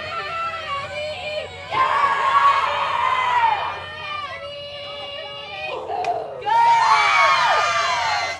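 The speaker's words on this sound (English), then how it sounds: "They got a loud dugout, really cheering on their teammates." Softball dugout crowd cheering on teammates during a college game, bursts of shouting and whooping voices in two loud waves with a brief sharp call between them, under an announcer's talk.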